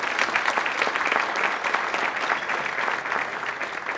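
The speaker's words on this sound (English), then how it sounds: "A big applause." Applause from the crowd at a banquet, with sustained, fairly even clapping from many hands that sounds somewhat distant and steady.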